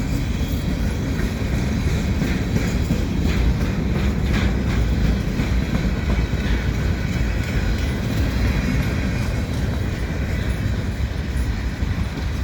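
A CP Rail mixed freight train with GE locomotives at each end rolls steadily past Dorval station in winter, a loud continuous rumble of wheels and cars with faint clickety-clack throughout, close by and with no talking.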